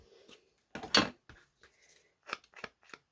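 Scissors snip through a piece of paper card for a Halloween tag flip book craft, a few quick close cuts in short bursts, one louder slice followed by several lighter snips.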